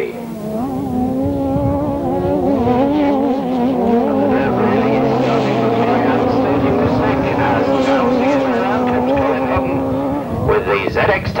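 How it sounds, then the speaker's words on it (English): Grasstrack sidecar outfits racing, one powered by a Kawasaki ZX-10 engine, their engines droning and rising in pitch as they pass, with a commentator talking over the roar throughout. "With the ZX-10 Kawasaki powered outfit, and that is streaking off into the lead at the moment"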